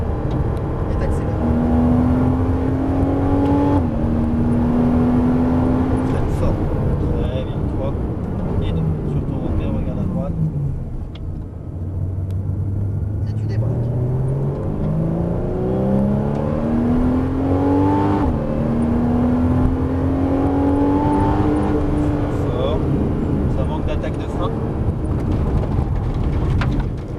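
A Porsche Cayman S on the Dreux circuit accelerates hard, its engine note rising through the gears with a dip and climb, loud and in-cabin, while people talk over it.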